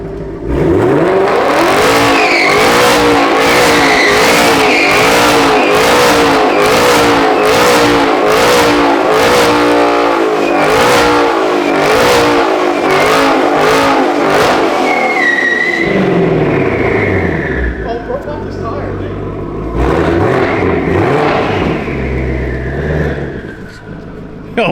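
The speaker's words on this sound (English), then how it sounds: "I'm gonna do a burnout just facing your car" A 2JZ-swapped Honda S2000 engine revs hard and repeatedly in a loud, sustained burnout, with tire squeal and rising engine pitch, then dropping off briefly before revving again near the end.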